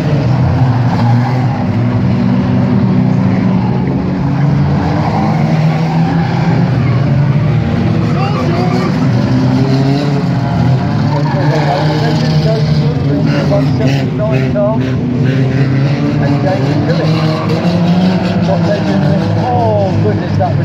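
Race cars at Aldershot Raceway roar continuously, a loud dense engine din with shifting pitch as cars pass, while a commentator talks over it throughout.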